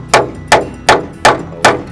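Hammer driving tacks into a DIY mountain greenhouse frame, five sharp evenly spaced blows about every 0.4 seconds, close and loud with no talking.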